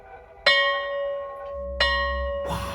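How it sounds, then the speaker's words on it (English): An old school bell rings out twice with clear, resonant metallic strikes that ring on and decay, followed by a burst of noise at the end. "Why, the old school bell!"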